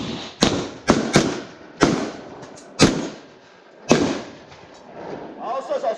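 A Walther PPQ M2 9mm pistol fires six loud, sharp shots at irregular intervals during a malfunction-clearance drill, each crack ringing briefly before the next, with quiet handling sounds and spoken instructions in between.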